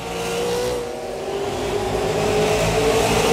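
Super late model race cars roar around Five Flags Speedway, engines droning loudly and rising in pitch as the cars accelerate, with a continuous race-pack rumble.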